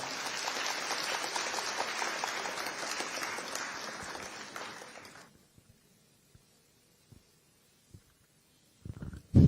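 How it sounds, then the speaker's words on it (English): Crowd applause for a government minister at a state security trust fund launch, loud for about five seconds then cutting off abruptly, followed by near silence, a few isolated knocks and a loud thump at the end. "Round of applause, please."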